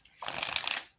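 A deck of tarot cards given one quick riffle shuffle, a brief close crisp flutter of cards lasting under a second, with no voices.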